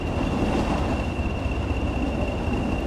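Class 20/3 diesel locomotive running in the Train Sim World 6 railway simulator, a steady droning engine and rolling rumble with a faint high whine held throughout at constant loudness.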